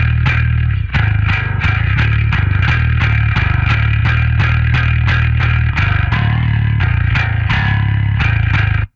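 Amp-simulator plugin tone set to low drive, steady rhythmic strummed chords with light grit ringing continuously at close range, loud and alone with no voices, stopping abruptly at the end.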